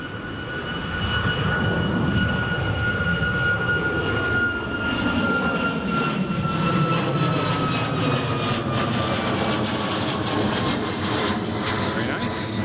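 An Air Europa Boeing 787 jet at Newcastle International Airport roars steadily and loudly as it passes, its engine whine slowly falling in pitch, while people talk faintly nearby.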